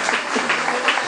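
Brief burst of audience clapping at a community prize-giving contest, a short, even patter of many hands lasting only about a second.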